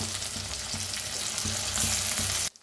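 Chopped tomato drops into onions frying in a pan, a close, steady sizzle with rhythmic stirring scrapes, swelling louder near the end before cutting off abruptly.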